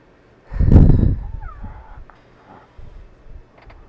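A cat in a truck camper gives one loud, close meow, then a few softer rustles and faint small sounds.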